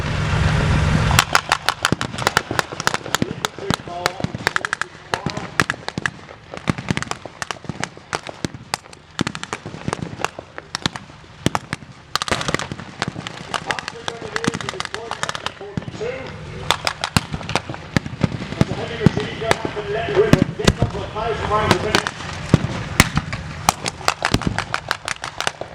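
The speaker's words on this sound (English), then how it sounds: "Fire coming in now from the American artillery and mortar." American artillery and mortar fire at the Tankfest display sounds as a dense, irregular barrage of sharp blank bangs and cracks across an outdoor arena. Vehicle engines rumble underneath, and voices are heard throughout.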